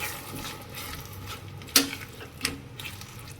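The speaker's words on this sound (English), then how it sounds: "Now I'll add the fried baby corn. I'll just give it a stir." Fried baby corn being stirred into gravy in a pan: a couple of soft, brief spoon scrapes and clinks against the pan over a quiet background, with no talking.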